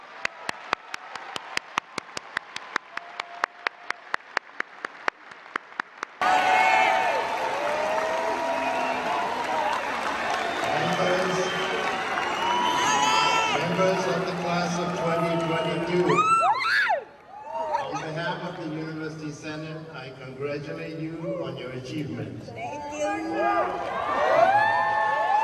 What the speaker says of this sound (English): Let's give a big round of applause for the class of 2022.